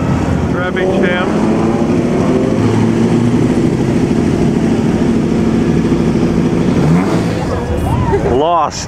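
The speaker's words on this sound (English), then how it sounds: "Traffic jam." Classic cars, BMWs among them, idle in a street traffic jam during the 2010 Mille Miglia in Italy, a steady low engine rumble muddied by heavy wind noise, with voices and a brief rising rev near the end.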